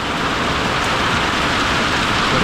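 Steady, dense rain falls continuously and fairly loudly, an even broadband hiss of drops on surfaces with no gaps and no voices.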